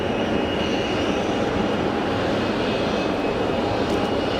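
A Phenom 100 light jet roars at Geneva Airport as a loud, continuous, unbroken engine rush with no voices.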